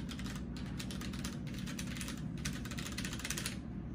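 Mechanical keyboard keys being typed on in quick, uneven bursts of clacks, close and fairly quiet, with no voices.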